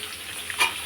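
Vegetables frying in oil and ghee, a soft steady sizzle with a brief swell partway through, fairly faint and without any talk.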